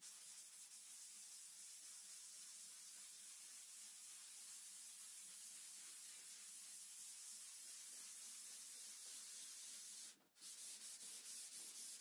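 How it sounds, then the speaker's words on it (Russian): Decorative plaster being sanded by hand with sandpaper, a steady close rasping rub that continues with few pauses and breaks off briefly near the end. "Затру наждачкой и погрунтую."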